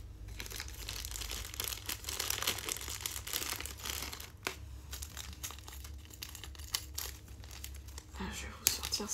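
A thin plastic sachet holding a sewing ring from a Dreamstitch cross-stitch kit crinkles and rustles almost continuously up close, with soft handling noises and a few sharper crackles near the end.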